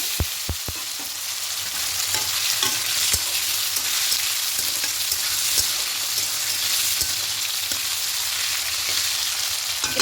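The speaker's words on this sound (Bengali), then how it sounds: "আলুগুলো একটু হালকা লাল করে ভেজে নেবে একটু ভেজে নিয়েছি" Boiled, cut potato pieces fry in a pan with dried red chillies and bay leaves for a vegetarian biuli dal khichuri, giving a steady, close sizzle throughout with occasional scrapes and knocks of stirring.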